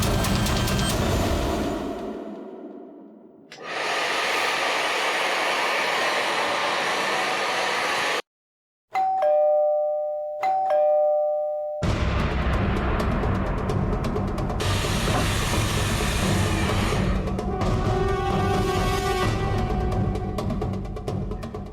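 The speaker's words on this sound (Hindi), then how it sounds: "एसी और हेयर ड्रायर की आवाज के ऊपर भी बेल की आवाज साफ सुनाई दे रही है।" Steady hiss of an air conditioner and a hair dryer comes and goes in bursts. Between them a doorbell sounds as a clear electronic chime of two or three tones, heard cleanly in a brief lull.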